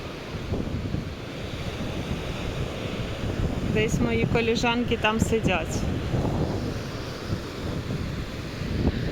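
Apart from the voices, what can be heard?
sea waves surging onto the beach with wind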